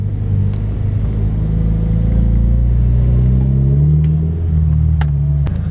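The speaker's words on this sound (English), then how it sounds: "once your car starts moving, you may let go of the clutch and you're in first gear" Manual-transmission car pulling away in first gear, a loud, close engine drone rising steadily in pitch as it accelerates, continuous throughout with no talk.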